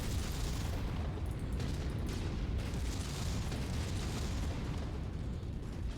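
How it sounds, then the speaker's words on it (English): Dense, continuous rumbling of booms and crackling bursts from ammunition exploding in a video game, blending into a constant roar, like sustained explosions heard steadily throughout. "Watch out for those ammo explosions."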